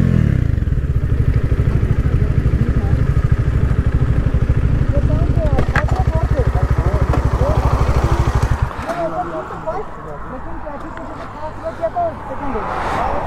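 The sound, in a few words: motorcycles drag racing: KTM RC390, Dominar 400, Apache RR310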